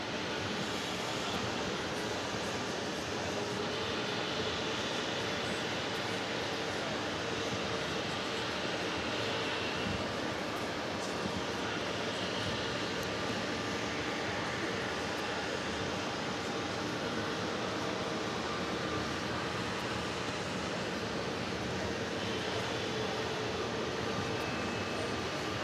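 A Delta Boeing 767-300ER jet at JFK airport, its engines a steady, broad distant roar sustained throughout without clear peaks, alone with no talk.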